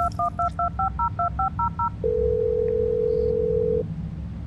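A phone in the Blair Witch video game dials a quick run of about nine two-tone keypad beeps, then a steady ringback tone holds for nearly two seconds over a low background rumble.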